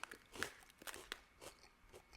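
Several crisp, dry crunches of freeze-dried broccoli close to the mic, irregular bites and chewing spread over a couple of seconds, fairly quiet.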